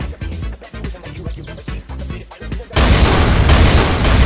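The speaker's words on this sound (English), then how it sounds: "make an explosion effect" A burst of several rapid cracks gives way to a loud, rumbling explosion effect in the Jump Showdown video game.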